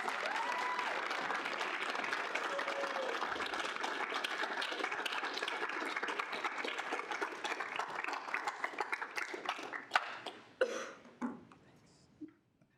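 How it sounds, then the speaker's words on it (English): A room of people at a student senate meeting gives steady applause, with a few coughs in the crowd, before the clapping thins into scattered claps and fades out. "give him a round of applause"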